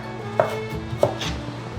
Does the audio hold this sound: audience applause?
no